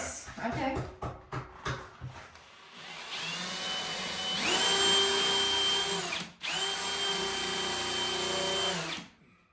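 A power drill boring a hole while fitting a pantry sink and open shelves: a few knocks at first, then a loud, close, whining spin-up that runs steadily, stops briefly, and runs again before winding down.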